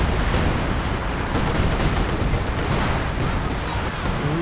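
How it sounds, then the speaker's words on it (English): A heavy mortar blasts amid a World War II battle in Company of Heroes 2, part of a continuous, loud barrage of booming artillery and rattling gunfire with no pauses. "Heavy mortar blasts out the Maxim though."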